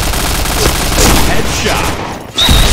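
An MP7 fires in the shooter game Point Blank, a dense stream of rapid automatic shots, loud and continuous with one brief break near the end, mixed with game sound effects.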